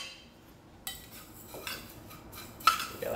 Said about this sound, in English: grab a separate bowl and chuck those both together to a separate bowl. And give them a nice mix up.